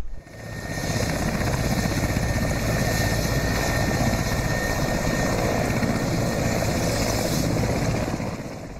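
A military helicopter flying counter-terrorism troops into a flooded operation zone, its loud, close rotor chop and turbine whine holding steady throughout, with no voices over it.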